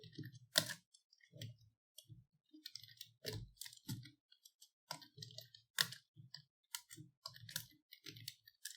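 Light plastic clicks of a computer keyboard being typed on while writing code, irregular bursts of keystrokes close by with short pauses between them, no talking.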